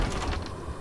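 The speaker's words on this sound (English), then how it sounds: "let me test the drawers first." A drawer sliding open in the horror video game Doors, a short creaking mechanical scrape lasting under a second, close and fairly loud with no voices.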